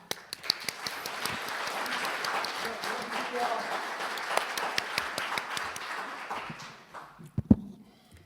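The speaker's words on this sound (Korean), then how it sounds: "큰 박수로 일단 수상 소감 들어보겠습니다" Audience applauding an award winner at a rural agriculture prize ceremony, a crackling spread of claps with a few sharp ones, moderately loud, tapering off at the end with voices murmuring through it.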